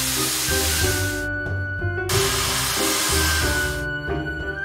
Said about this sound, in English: we were just filling up with water from this water tower so that we could blow steam like